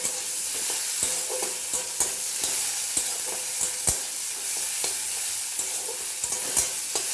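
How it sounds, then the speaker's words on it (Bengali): Chopped tomato fries with spices in a pan for a pointed gourd dish. A steady, close sizzle runs throughout, broken by repeated sharp scrapes and taps of a spatula stirring, with no voices. "টমেটো কুচিটা একটু ভেজে নিয়ে আমি মশলাগুলো দিয়ে দেব।"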